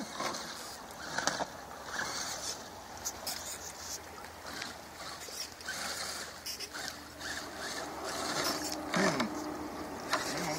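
An Axial AX10 RC rock crawler working along an outdoor trail, with quiet whirring motor and gear noise plus scattered clicks and scrapes, faint and close.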